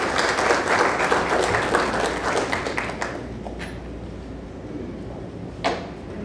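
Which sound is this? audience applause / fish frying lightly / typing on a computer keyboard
audience applause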